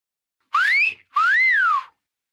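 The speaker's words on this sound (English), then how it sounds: "Whistle." Two separate rising-and-falling whistles, each about half a second long, with a short gap between them. They sound clear and close, and nothing else is heard.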